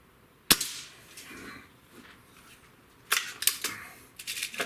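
A single sharp shot from an Umarex Fuel air rifle during target grouping practice, a loud crisp crack followed by a few fainter clicks and handling sounds.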